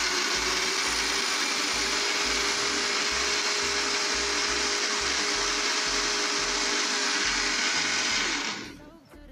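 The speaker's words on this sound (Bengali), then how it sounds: "ওকে, এখন আমি চালু করে দিচ্ছি ব্লেন্ডারটি।" An electric blender whirs at high speed through a banana milkshake, a loud, continuous grinding drone with a steady pulsing undertone, running alone until it cuts off near the end.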